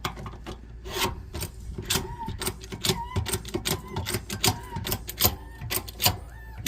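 Repeated strokes on a hydraulic hand pump for a B&W weight distribution hitch, a close, steady series of rasping, clicking pumps with faint metallic creaks, no voice over it.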